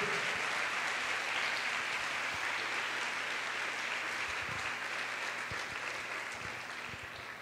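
A church congregation applauds during a sermon, a steady, dense wash of clapping from a large crowd, moderately distant, slowly fading toward the end.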